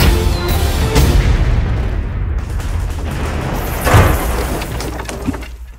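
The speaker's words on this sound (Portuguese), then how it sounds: "Aí vai bomba!" A loud, rumbling bomb blast from a dubbed Addams Family film trailer: dense, broadband roar that fills the whole stretch, swelling to a heavier burst near the end before fading.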